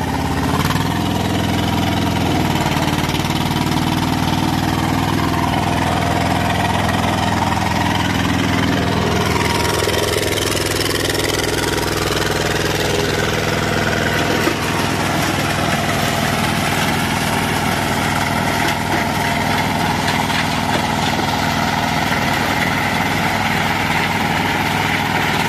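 Tracked wood chipper powered by a Kubota two-cylinder diesel with a 70 cm cutting blade runs steadily throughout, a loud continuous low engine drone with a shift in load partway through as it starts chipping, no voices.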